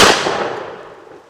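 A single loud report from a Pedersoli second model Brown Bess flintlock musket fired outdoors in the rain, a sharp blast that decays over about a second.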